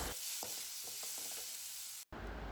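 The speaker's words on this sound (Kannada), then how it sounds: "ಟೊಮ್ಯಾಟೊನ ಚೆನ್ನಾಗಿ ಬಾಡಿಸ್ಕೋಬೇಕು." Chopped tomatoes sautéing in oil in a pan with curry leaves, a steady close sizzle broken by a few soft stirring scrapes, alone without talk, cut by a brief gap near the end.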